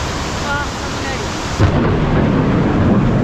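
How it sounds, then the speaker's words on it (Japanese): Thunder rumbles through a night storm in a mountain gorge during a riverside camp, a loud close crack and roll breaking over steady heavy rain and wind noise. "雷。"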